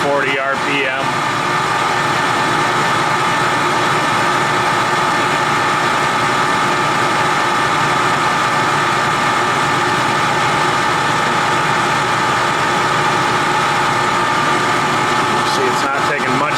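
A Clausing Colchester 15x50 lathe runs at 840 RPM after a clutch adjustment: a loud, steady mechanical hum and whine holds unbroken throughout, with brief clicks at the start and end, and a voice talks over it.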